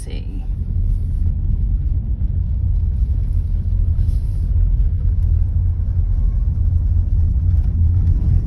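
A car drives along narrow roads in Sidari, Corfu, its engine and tyres giving a steady, loud low rumble throughout, heard from inside the vehicle without pauses or clear changes in pace.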